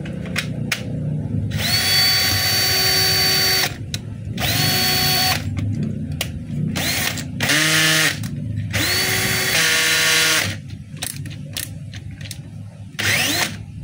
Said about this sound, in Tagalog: Yan po yung drill mga kabay.